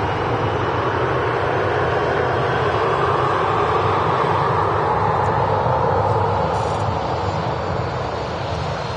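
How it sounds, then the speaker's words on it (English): A Ryanair Boeing 737-800 taxis at Manchester Airport with a loud, continuous jet-engine roar and whine that holds steady throughout. "Ryanair rolling off to Eindhoven, flight 6951, with this Boeing 737-800 series"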